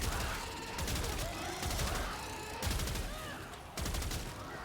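Bursts of Hikou gunfire in Warframe, rapid rattling volleys in several clustered groups separated by short gaps, close and fairly loud against a busy game backdrop.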